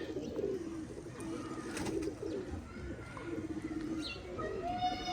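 Pigeon cooing softly in low, repeated murmurs close by, set among rustling handling noise while a female bird is held in the hand.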